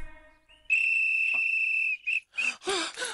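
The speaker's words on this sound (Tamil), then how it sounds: "விசில்" A shrill whistle blows in a long steady blast, then a short toot, followed by several quick wavering chirps, loud and close with no talk over it.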